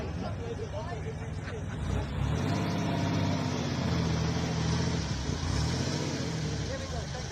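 A classic Porsche 930 Turbo runs a qualifying lap with a low, steady engine rumble that rises and holds at a moderate distance. A commentator talks over it.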